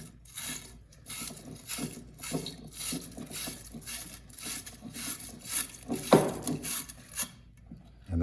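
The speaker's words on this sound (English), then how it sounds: "If I wanted to clean the inside, I take this side and spin it around inside." A wire pipe-cleaning brush spun inside a copper pipe before soldering, giving quiet irregular scraping and rasping strokes with short pauses between them, close up and without talk.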